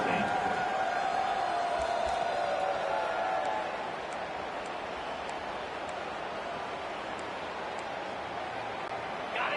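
A packed stadium crowd at a college football game between Oklahoma State and Texas State roars as a steady, broad wash of cheering, louder at first and then settling, with a commentator talking over it.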